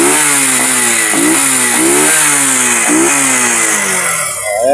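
A motorcycle engine with two litres of oil added runs loud and close, revving up and down in repeated rising and falling swells before settling, with no voices.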